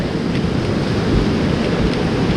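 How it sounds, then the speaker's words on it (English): Fast-flowing creek water in South Carolina roars loudly and continuously close by, a dense broadband wash with some wind buffeting the microphone. "this water's flowing down the creek here, and you can see it's very fast moving"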